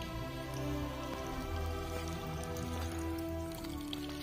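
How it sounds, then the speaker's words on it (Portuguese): A small stream at the Horto Municipal in Santa Maria de Jetibá flows downhill by gravity, a steady close burble and trickle of water with no speech. "Um córrego."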